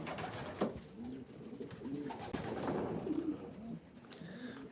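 Racing pigeons coo repeatedly in soft, low, rolling calls, several birds close by with faint rustling and movement between the coos.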